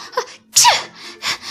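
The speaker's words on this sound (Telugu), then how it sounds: "బాగా తడిసిపోవడంతో జలుబు చేసి తుమ్మడం మొదలుపెట్టింది." A person with a cold sneezes once sharply, preceded by a short breathy intake and followed by a brief exhale, close and clear in a quiet room.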